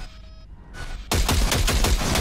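Quiet electronic tones give way to a loud rapid burst of gunfire in the video game Cyberpunk 2077, shots cracking in quick succession like game weapon fire.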